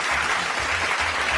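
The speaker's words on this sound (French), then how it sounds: "Applaudissez pour lui, applaudissez." Crowd applause, dense and continuous, loud and close, with a low rhythmic hum or beat underneath throughout.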